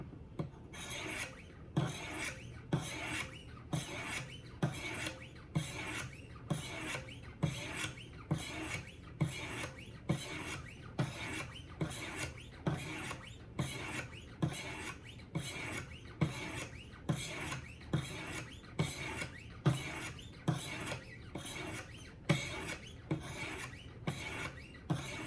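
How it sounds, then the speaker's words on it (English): Knife blade stroked along the stones of a Wicked Edge Go sharpener, a steady run of evenly spaced rasping strokes, close and alone, with no talk. "we'll do 30 on the left"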